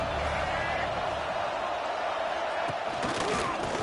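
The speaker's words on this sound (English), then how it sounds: "Fourth down, and this crowd is making it miserable on this offense." A football video game stadium crowd roars on a fourth-down play in a Michigan at Oregon matchup, a dense, constant wall of noise that holds steady throughout.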